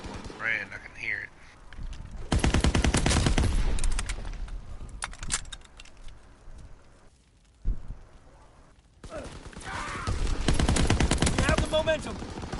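M1 rifle fire crackles in a WWII video game, bursts of loud, dense gunshots in two long volleys separated by quieter stretches, with players talking over the shooting.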